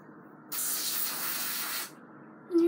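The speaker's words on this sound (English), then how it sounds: "wow, it's too much hairspray" Hairspray from an aerosol can misted onto a ponytail in one steady hiss of about a second and a half, close and fairly loud, with no talk over it.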